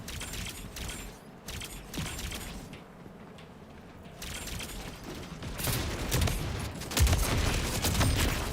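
Shotgun fire in a video game, bursts of crackling shots and mechanical clatter coming and going over a constant noisy backdrop, fairly loud, no clear talking.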